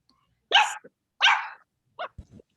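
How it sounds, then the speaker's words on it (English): Puppies giving a few short high yappy barks, two louder ones followed by softer yips, heard alone in a quiet room. "somebody's got some cute puppies barking"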